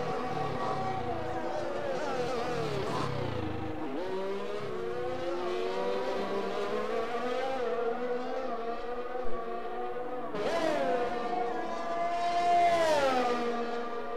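A Williams race car engine in a racing video game drones and whines through gear changes, pitch sliding up and down as it accelerates, lifts and revs again, steady and fairly loud with no voices.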